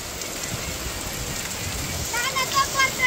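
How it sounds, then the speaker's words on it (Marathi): Heavy rain pours down steadily on a village home in late May, a dense continuous hiss with patter that swells a little louder toward the end. "पाऊस परत वाढला जोराचा."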